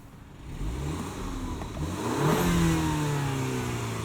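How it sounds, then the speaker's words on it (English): A 2019 BMW X3 xDrive30i's 2-liter turbo four-cylinder accelerates from the cabin, its smooth engine note climbing steadily through the revs with a mild whir, moderately loud and alone. "Not a whole lot of personality from this 2-liter turbo, but there doesn't need to be."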